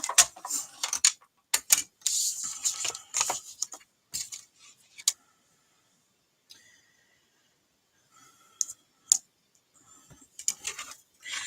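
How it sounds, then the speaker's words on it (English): A Stampin' Up! mini cut and emboss machine handled and cranked, giving bursts of clicking and ratcheting clatter separated by silent pauses, close and fairly quiet. "I'm going to bring in the mini cut and emboss machine"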